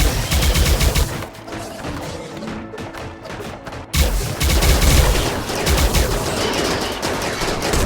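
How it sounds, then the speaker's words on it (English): Gunfire in RimWorld with the RiftWorld mod around sensitive equipment, rapid machine-gun bursts and dense volleys, loud and sustained, a brief lull near the middle before heavy firing resumes. "Not great to be shooting around all that sensitive equipment"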